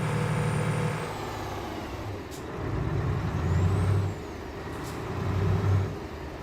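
Truck air brakes in the Euro Truck Simulator 2 driving game, heard as short hissing releases over a continuous rumbling engine drone that swells and fades in waves.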